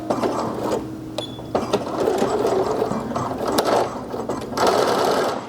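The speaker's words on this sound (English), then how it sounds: "I'm going to go ahead and just sew in both darts and press them" Darts in a dress are stitched on a sewing machine, with close mechanical whirring and clicking runs of the needle, broken by brief stops and handling noises.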